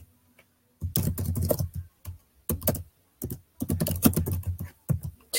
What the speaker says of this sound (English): I'm going to type a link